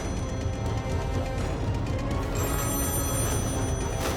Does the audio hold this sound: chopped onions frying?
no